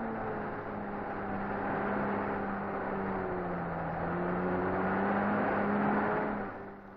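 A 1940s cross-country vehicle with deeply treaded, broad low-pressure tyres and high clearance amidships drives steadily, its engine a continuous droning whir that swells slightly toward the end before easing off.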